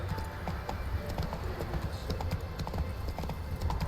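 Roach, the horse in The Witcher 3, gallops with a steady, rapid clip-clop of hooves, fairly quiet and continuous over a low rumble.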